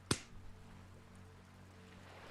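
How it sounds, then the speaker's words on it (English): A single sharp hand clap, close and dry, rings out once near the start and then gives way to a quiet room with no further sound. "I'll clap after you"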